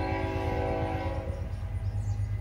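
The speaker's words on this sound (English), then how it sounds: "it's gonna be a reality for this property that you hear the train." A train passing near a rural homestead sounds its horn in one long, loud, tonal blast, which then gives way to a low, rolling rumble of the train continuing by.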